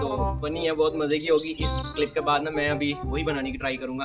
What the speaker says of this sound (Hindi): चिड़िया बोल रही है